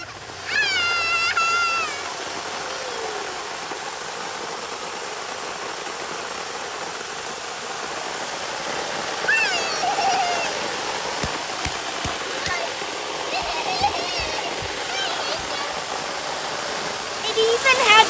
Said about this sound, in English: Now let's put some water in the pool.